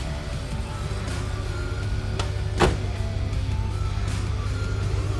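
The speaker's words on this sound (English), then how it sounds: "And then we just turn on our compressors." A steady electric hum of onboard air compressors runs continuously, with a couple of brief clicks partway through.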